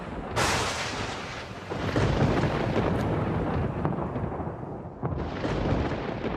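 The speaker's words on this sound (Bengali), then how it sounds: "এমন সময় পাশের তাল গাছগুলোতে একটা জোরে বাজ পড়ে।" A cartoon thunderclap strikes loud and close as lightning hits a row of palm trees, breaking into a long rumbling roll with a second sharp crack near the end and no speech over it.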